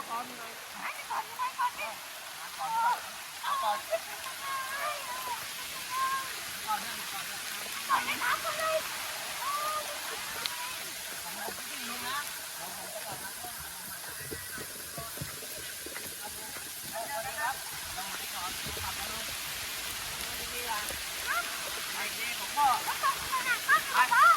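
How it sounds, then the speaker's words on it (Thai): Heavy rain pours down in a constant broad hiss throughout, with voices talking faintly underneath. "ตอนนี้เนี่ยฝนตกหนักมากๆครับ"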